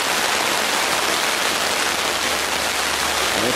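Heavy rain pours at a campsite during a thunderstorm, a dense, loud, steady hiss of drops drumming on surfaces with no pauses.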